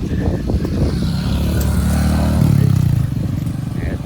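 A motorcycle rumbles past close by on an outing near the Layun River in Real, Quezon, its engine growing louder and peaking before fading, with some talk over it.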